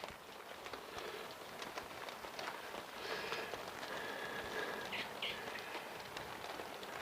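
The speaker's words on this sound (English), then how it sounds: "Oh yeah, it's chucking it down." Steady heavy rain hisses continuously, a dense even wash of sound with no talking.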